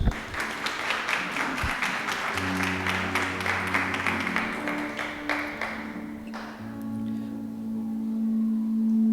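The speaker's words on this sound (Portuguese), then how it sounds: "Pode sentar, aplaudir no nome de Jesus?" A church congregation claps loudly at first while sustained keyboard or organ chords begin underneath. The applause thins out and fades within a few seconds, leaving the held musical tones on their own.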